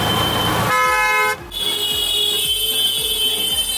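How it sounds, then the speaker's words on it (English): Car horns honk in busy Indian city-center traffic, a loud sustained blare holding for about three seconds over a steady road rumble, with a brief dip partway through. "here it's not very typical for you to hear people just honking their horns"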